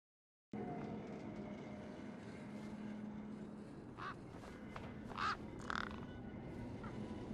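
Tough desert birds caw in the video game Beyond a Steel Sky: a few harsh calls that rise above a constant low rumbling background.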